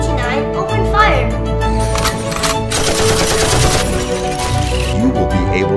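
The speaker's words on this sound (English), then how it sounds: "Hey, T9, open fire!" Gunfire sound effect from a Robosen T9 auto-transforming toy robot, rapid machine-gun bursts and cracks over music, with a voice talking.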